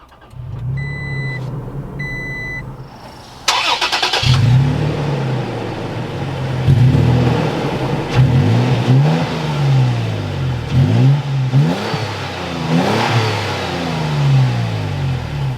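A couple of electronic chimes, then a 2023 Toyota Tacoma TRD Pro pickup engine cranks and catches, followed by repeated revs rising and falling over a steady idle, loud and close.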